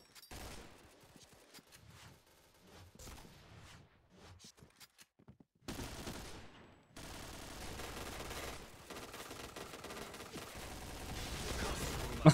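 Rapid automatic gunfire in the online shooter Point Blank, bursts of sharp shots at first, then near-continuous fusillade building louder toward the end, with occasional faint voices underneath.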